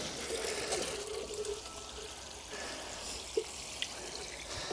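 Water pours steadily from a watering can onto the soil around newly planted melons in a small growing tunnel, a continuous close splashing rush with a few faint drips.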